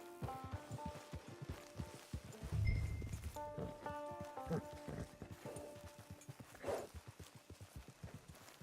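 Horse hooves clip-clopping steadily in Red Dead Online, a walking rhythm of close, moderately loud hoofbeats running throughout, with game music tones and brief low rumbles underneath.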